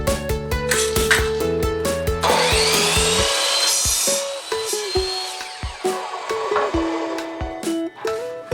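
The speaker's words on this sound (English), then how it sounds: "I'm going to cut it just a little bit short so that I can trim everything to be the same length." Hand sawing through a wooden board to cut a piece for a DIY spray paint rack, a steady run of close rasping strokes over music.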